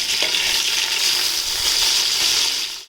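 Onions hit hot oil and ghee spiced with cinnamon, cloves, cardamom and bay leaf for mutton biryani, a loud, close, dense sizzle that holds steady for a few seconds before cutting off.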